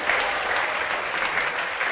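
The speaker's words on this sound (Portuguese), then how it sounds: "Vamos aplaudir ao nome de Jesus." A church congregation applauding during a televised evangelical service, a dense, continuous wash of many hands clapping at even loudness from a large crowd, with a voice faintly underneath.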